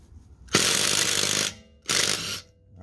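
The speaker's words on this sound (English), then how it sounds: "Hart 20 volt brushed impact driver, 21 millimeter socket at 100 foot pounds here." A Hart 20V brushed impact driver hammers a lug nut through a 21mm socket in two loud, close bursts of rapid rattling impacts, the first about a second long and the second shorter after a brief pause.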